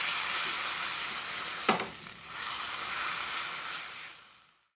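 A sauce base for fish curry sizzling and frying steadily in a pan, a continuous close hiss, briefly broken by a single stir or scrape partway through before fading out.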